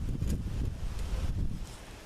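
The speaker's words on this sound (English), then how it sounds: "wind's gusting pretty good right now" Strong wind gusting during a major storm with hail, roaring low and steady against the microphone in rough, rushing surges that swell and ease over a couple of seconds, with no voices.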